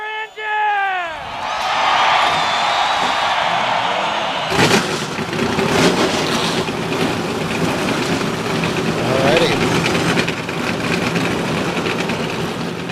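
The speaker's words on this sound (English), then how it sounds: "Gentlemen, start your engine!" NASCAR race car engines fire up and idle at the 1997 Southern 500 at Darlington, a loud sustained roar that swells after a brief opening tone, with crowd noise and broadcast voices mixed underneath.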